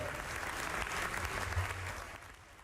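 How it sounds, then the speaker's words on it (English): MPs in the House of Commons applaud together in a thick, sustained round of clapping that gradually fades toward the end, with a low murmur beneath it. "most joined in the applause as he was dragged to the Speaker's chair"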